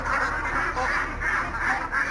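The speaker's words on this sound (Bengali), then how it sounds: "বাংলায় আমরা হাঁস বলি আর হিন্দিতে बतख বলে" A group of ducks quacks together in a repeated, rhythmic chorus, close and fairly loud, with no other sounds competing.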